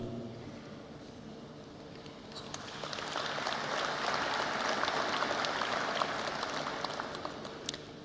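Applause from an audience at a commemoration ceremony, a broad steady wash of clapping that rises and holds, with no voices over it.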